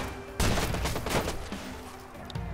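Rapid gunfire from the video game Watch Dogs on PC: a sharp burst of shots opens, followed by a rattling fusillade of quicker reports that trails off, loud and close.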